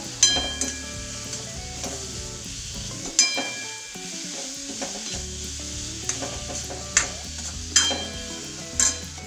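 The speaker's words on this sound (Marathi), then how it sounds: "आता याच्यामध्ये आपल्याला एक बारीक चिरलेला कांदा टाकून घ्यायचा आहे, याला पण परतून घेऊ।" Finely chopped onion sautés in a pan for a mixed-lentil paratha filling. The sizzle is continuous and close, broken by clinks and scrapes as the onion is stirred, and a few sharper metallic taps recur toward the end.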